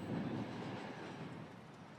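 A Union Pacific passenger extra rolls past on a triple-track mainline, a steady broad rumble that is loudest at first and eases slightly as the train moves on, with no voices.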